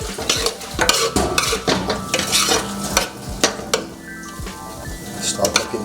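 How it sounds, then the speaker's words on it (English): Cream of wheat is parched dry in a pot, with a spoon scraping and stirring in repeated rhythmic strokes, clinking against the metal at close range over a faint sizzle. "So I'm trying to parch it before I start adding my liquid ingredients inside."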